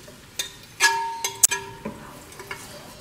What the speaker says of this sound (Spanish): Le vamos a agregar media cebolla picada.